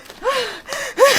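Heavy, breathy panting comes in three loud, ragged gasps close to the mic, each one rising and falling in pitch, with no talk over it.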